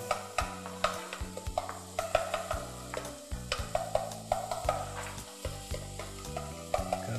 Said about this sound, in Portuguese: Refogadinho simples com cebola aí.